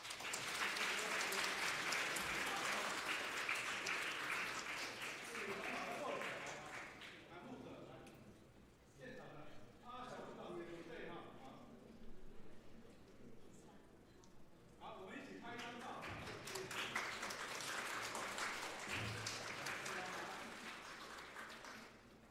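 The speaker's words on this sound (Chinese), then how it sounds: "拍手拍手拍手！" A church congregation applauds during a Sunday worship service, with a long burst of clapping at the start and another near the end, separated by a stretch of voices talking.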